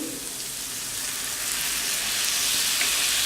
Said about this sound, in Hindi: इसे हम 1 मिनट के लिए इसी तरह भूनेंगे।